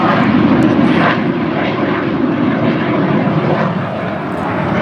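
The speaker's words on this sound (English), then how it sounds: "There's fighter jets going by right now." Fighter jets from nearby MacDill Air Force Base pass overhead above a residential area of Brandon and Riverview, Florida, a loud continuous broadband engine roar that swells slightly and fades without any talking.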